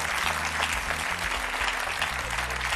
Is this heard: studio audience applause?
yes